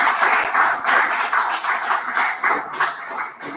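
A small group gives Suresh a round of applause, a dense, steady patter of clapping at moderate volume that fluctuates a little without fading out.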